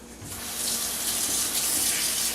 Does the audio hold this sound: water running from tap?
yes